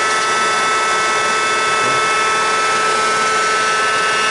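A used Marvel Model 81 vertical bandsaw runs in a metal shop, a loud, steady mechanical whine and hum that holds unchanged throughout with no talk over it.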